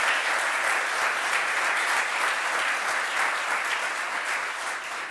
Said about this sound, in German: könnt ihr vielleicht mal applaudieren, wenn ihr einen ähnlichen Gedankengang habt